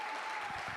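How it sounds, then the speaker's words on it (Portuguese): A church congregation clapping in a short, steady burst of applause during a family worship service, with faint voices blended into the clapping. "Queria que você aplaudisse."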